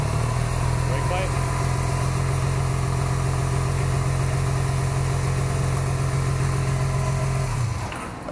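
Motorcycle engine on a cafe racer build idling just after starting, a loud, steady close rumble that carries on evenly before cutting off near the end.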